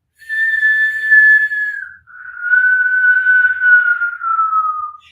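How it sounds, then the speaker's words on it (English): During a Kundalini yoga exercise, a person breathes in and out through a rounded mouth, making a whistle breath. Two long, close, clear whistling tones follow one another with a short gap between them and no talk. "You're inhaling and exhaling through a rounded mouth, making a whistle noise."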